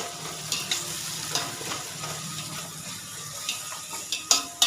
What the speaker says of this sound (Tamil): வெங்காயம் வதங்கும் போதே 4 பச்சை மிளகா போட்டுருங்க.